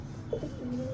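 A pigeon gives a brief, soft coo or two, fairly faint against a low background rumble, from a flock of kept pigeons.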